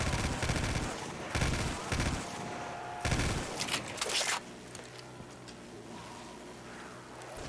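Rapid bursts of fast-firing gunfire in Call of Duty Black Ops 3 custom Zombies, several loud sharp volleys over the first four seconds, then quieter game ambience.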